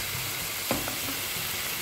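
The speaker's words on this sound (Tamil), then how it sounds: "மல்லி இலை, புதினா இலை இந்த வெங்காயத்தில் நல்லா சேர்த்து வதக்கி விடுங்க" Onions sautéing with coriander and mint leaves in a pan for mutton biryani, a steady close sizzle with a brief stirring scrape, no voices.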